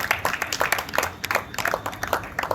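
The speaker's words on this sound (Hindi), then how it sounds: "सच में एक बार अपने लिए जोरदार तालियां बजा लीजिए" Audience applause at a Hindi veer ras kavi sammelan poetry recital, a dense round of many hands clapping, fairly close and steady with uneven bursts throughout.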